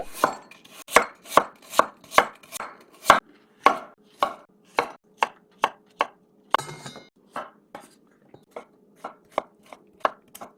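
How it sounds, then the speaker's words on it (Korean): A knife chopping radish and other vegetables for cheonggukjang on a cutting board, about two dozen crisp, evenly spaced chops close up, slowing slightly toward the end, with a brief scraping sound midway. "조금 더 잘게 썰고 싶으면 잘게 썰고"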